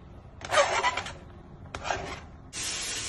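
A carrot is grated by hand in a kitchen, giving three short bursts of scraping rasp, close and fairly loud, separated by brief pauses.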